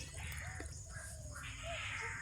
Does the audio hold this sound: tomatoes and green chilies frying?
no